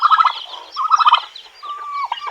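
Hens and chicks in a backyard coop giving rapid, chattering clucks and calls in short bursts, loud and close, with one drawn-out higher call near the end.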